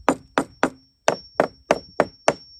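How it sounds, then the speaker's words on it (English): A hammer beats screws flat into composite boardwalk decking: eight sharp, close strikes in a steady rhythm, three quick blows, a brief pause, then five more. "take a hammer,"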